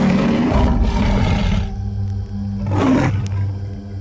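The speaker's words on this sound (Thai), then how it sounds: "เสียงคำรามของเสือก็ดังแว่วมาจากตีนเขาดังก้องป่า" Tiger roaring in a forest at the foot of a hill, two long rumbling roars with a short gap between them, loud and echoing, with no talking.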